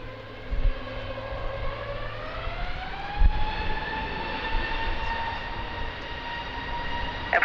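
An airplane takes off from runway 20 at Lisbon Airport in strong wind, its engines rising into a loud, steady whine with climbing tones over a constant rumble.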